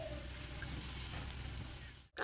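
Nigella seeds tempering in hot oil for a Bengali hilsa dish give a steady, close sizzle that holds evenly before cutting off abruptly near the end.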